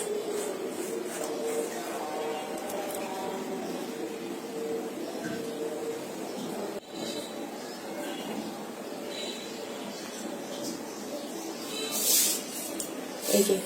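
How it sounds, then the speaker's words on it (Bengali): Dry cake ingredients are sifted through a sieve for a microwave-baked cake, giving a steady soft hiss and rustle of powder with faint tapping, close and continuous throughout, a slightly louder scrape near the end. "এবার এগুলো সবগুলো শুকনো উপকরণ একসাথে চেলে আলাদা করে রেখে দিব।"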